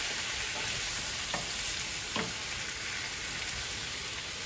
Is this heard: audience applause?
no